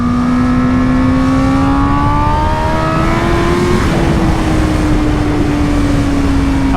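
A 2020 Honda Fireblade SP motorcycle accelerates hard with a loud, close engine note that climbs steadily in pitch, dips briefly at a gear change, then pulls on under rushing wind.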